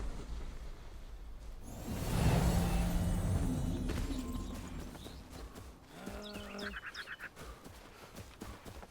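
A faint whooshing swell rises and fades, then a short, wavering goat bleat from the video game Enshrouded sounds alone over quiet ambient background.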